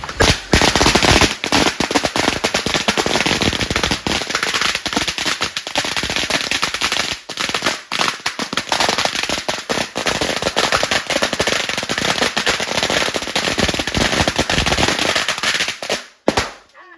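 Firecrackers burst in a loud, dense, continuous string of sharp cracks at close range, with a few brief pauses and a sudden cutoff near the end.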